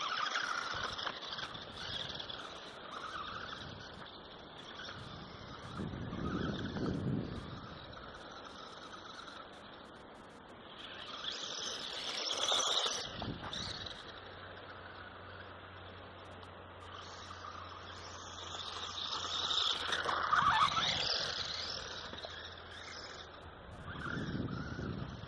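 WLtoys 12428 1/12 scale 4x4 RC rock racer on a 2S LiPo battery, its electric motor whining in rising and falling bursts as it drives, with surges around the middle and near the end and steady background noise between.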